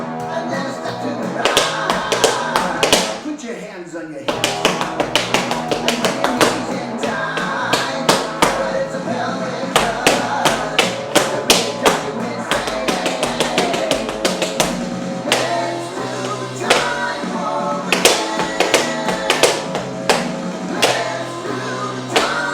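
Intermediate tap dance steps for a Rocky Horror routine: crisp, rapid metal taps in quick rhythmic clusters and rolls over upbeat music, loud and close throughout.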